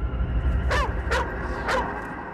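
Cadaver dogs trained to detect human remains bark and yip in short bursts, about four calls spaced across the stretch, over a steady low rumble of outdoor background noise.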